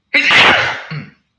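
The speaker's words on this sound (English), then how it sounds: "I thought I was going to sneeze there." A single loud, close human sneeze with a sharp explosive burst and a short trailing breath afterward.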